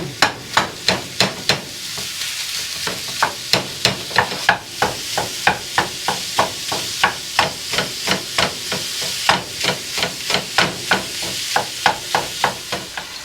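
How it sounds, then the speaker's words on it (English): A pound of ground beef is broken up and browned in a pan: a steady run of sharp spatula taps and scrapes repeats about twice a second over a soft sizzle, with no talking. "So we bust the burger up really good."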